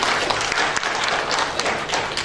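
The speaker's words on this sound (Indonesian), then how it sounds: "kita beri tepuk tangan untuk Alfred Jonah" A crowd of parents at a university faculty gathering applauds a student speaker, a sustained, even wash of clapping that stays loud throughout with no talk over it.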